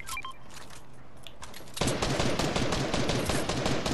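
Rapid automatic gunfire in the video game Fortnite bursts in after a quiet stretch, a dense, sustained rattle of shots that continues to the end without voices.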